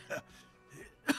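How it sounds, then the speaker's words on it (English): A character in the video game Disco Elysium coughs hard during a fit, with two sharp, rough bursts separated by a short pause. The coughs are fairly close and stand alone, with no other sound over them. "He breaks into a hideous coughing fit."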